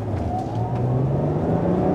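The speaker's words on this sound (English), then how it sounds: "Nice loud grunt from the engine, and handles pretty well." A Hyundai Santa Fe's front-wheel-drive engine revs in sport mode, giving a steady, loud, close-up growl with a rising tone that holds for the whole stretch.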